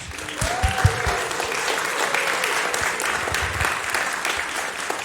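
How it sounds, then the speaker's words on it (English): A crowd at a Sunday church service claps in sustained applause with a few whoops rising above it, heard from a moderate distance. "So let's give a big round of applause"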